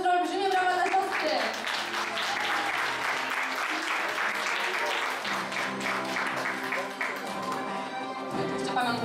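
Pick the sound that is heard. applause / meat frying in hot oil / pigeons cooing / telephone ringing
applause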